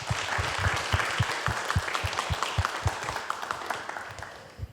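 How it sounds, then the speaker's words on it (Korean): Audience applause for a jazz pianist at a literary concert, a steady wash of clapping from a crowd with sharp low thumps punctuating it, moderately loud and continuous before easing slightly at the end. "멋진 연주 전해주신 이용희 재즈 피아니스트님께 다시 한번 큰 박수 전해주시기 바랍니다"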